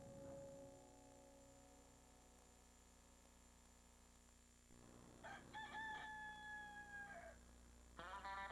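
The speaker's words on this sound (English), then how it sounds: "Roosters. They know mornings and what it takes to get off to a great one." A rooster crows in a TV commercial for Tim Hortons: one long, drawn-out cock-a-doodle-doo rings out clearly over a faint hum, with no voices.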